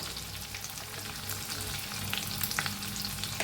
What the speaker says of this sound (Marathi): या सगळ्यांना चांगला भाजलाय मसाला। आता हळद घालूया,